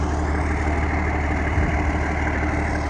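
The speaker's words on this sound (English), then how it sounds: "This got a gas engine." Steady, even idle of a Ford F-250 pickup running a gas engine, parked outdoors in Florida; a continuous low engine drone fills the moment, close by, with no voices.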